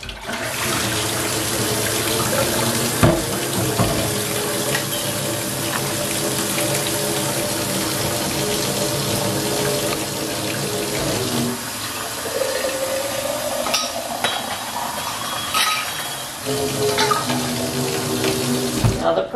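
Hot water pouring steadily from a kitchen sink tap, a loud continuous splashing rush with small clinks and shifts in flow, almost no talking.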